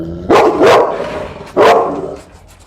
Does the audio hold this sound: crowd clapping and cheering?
no